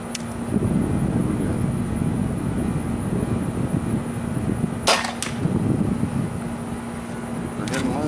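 Arrows fitted with Omni Brite nocks are shot from a bow set on a monopod, and they strike a target with sharp, sudden thwacks. A couple of impacts land near the middle and one comes near the end, over a steady background hum and a little talk.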